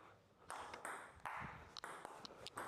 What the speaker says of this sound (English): listen to the sound of the racket. Hear that sound from the racket.